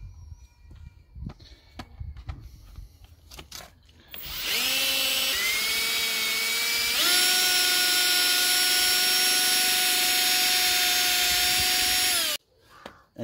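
A handheld power drill spins a polishing pad over a scratched motorcycle mirror, starting after quiet handling noises and running as a loud, steady whine for about eight seconds, rising in pitch partway through, then cutting off abruptly.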